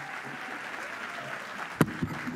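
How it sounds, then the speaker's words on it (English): Steady audience applause at the Jamaica 55 Diaspora Conference, a soft, even wash of clapping that thins out, leaving a few isolated claps near the end. "Give her another round of applause."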